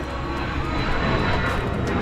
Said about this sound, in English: and a plane goes by.